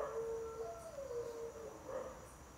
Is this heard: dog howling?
yes